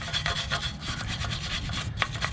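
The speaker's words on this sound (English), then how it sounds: "They're cheap screwdrivers, and they work really good for this kind of gnawing out little places and stuff." A cheap screwdriver scrapes and gnaws rust from small spots on a car's rear end that wire wheels cannot reach, giving close, steady rasping strokes in a continuous rhythm, with no talk.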